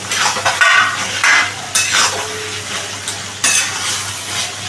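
Fried prawns are stirred into a bubbling mixed-vegetable curry, giving loud, close sizzling with repeated bursts of spoon-on-pan scraping and clatter, no voices.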